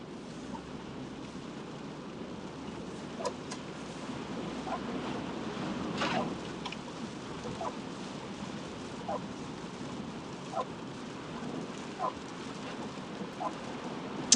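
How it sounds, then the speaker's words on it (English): Afternoon rain during Orlando's rainy season falls as a steady wash of hiss, with scattered brief taps and drips standing out faintly over the constant patter. "we're getting into the rainy season, so we get the afternoon rain"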